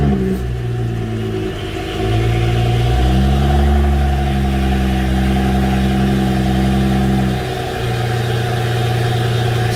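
An engine cranks and catches, revs up loudly for several seconds, then drops back to a steady, close idle with no one talking.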